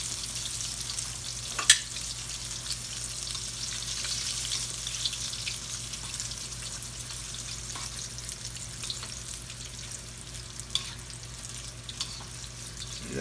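Onion rings fry in hot oil with a steady, close sizzle and crackle, interrupted by a few sharp pops.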